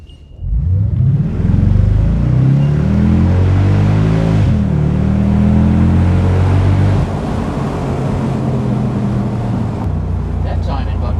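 A 2003 Mercedes SL55 AMG pulls hard at full throttle with traction control cutting in. Its loud, dense engine roar climbs through the gears in rising harmonic sweeps, with a brief dip around the shift near four seconds, then a steady drone.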